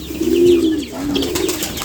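Pigeons coo in a low, rolling series of throaty calls, close and fairly loud, with no voices present.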